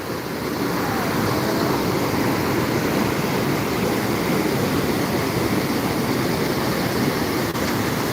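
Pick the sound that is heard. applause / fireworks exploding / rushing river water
rushing river water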